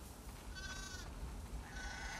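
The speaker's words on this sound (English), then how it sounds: "We definitely have way too many sheep." Sheep in The Last of Us Part II bleat twice in quick succession, a pair of wavering nasal calls at moderate distance over a steady outdoor background, with no talk.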